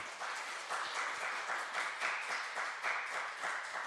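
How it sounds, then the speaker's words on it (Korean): Congregation applauding at a Sunday church service to welcome a newlywed couple, a steady wash of many hands clapping at moderate level throughout. "우리 축하와 축복의 박수로 환영해 주시겠습니다"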